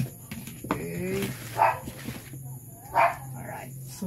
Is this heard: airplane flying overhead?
no